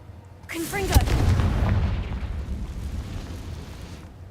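The Confringo explosive spell in Hogwarts Legacy goes off with a sharp blast followed by a long rumbling roar that slowly fades, loud and close.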